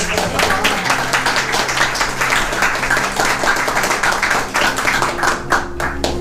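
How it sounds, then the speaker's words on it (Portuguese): Church congregation clapping together during a worship service, a dense, steady wash of many hands close by that fills the whole stretch, with a low held tone underneath. "Quantos podem aplaudir o nome do nosso Deus?"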